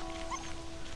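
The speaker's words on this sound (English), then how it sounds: "Baby badgers, baby badgers, trying to find some food, baby badgers." Baby badger cubs from the video game Shelter give a short, faint whimpering squeak, a single brief yip over a low background hum.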